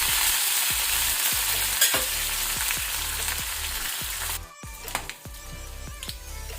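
Curry leaves and crushed garlic frying in hot oil over a low flame, a loud continuous sizzle broken by repeated scraping stirs of a spoon in the pan, with no talk.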